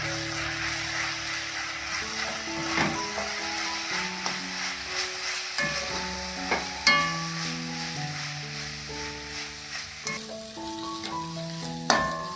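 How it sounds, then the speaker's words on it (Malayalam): Kashmiri chilli powder and garam masala sauté in a pan for a Kerala-style chicken curry, giving a steady, soft sizzle broken by frequent clinks and scrapes of stirring. "ഇത്രയും ചേർത്തതിന് ശേഷം നമുക്ക് പൊടികളുടെയൊക്കെ പച്ചമണം മാറുന്ന വരെ നന്നായിട്ടൊന്ന് വഴറ്റിയെടുക്കാം."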